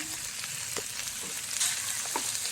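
Sliced okra and chopped onion with a pinch of salt sizzle steadily in a pan, a continuous close-up frying hiss with a few soft clicks of stirring and no voices.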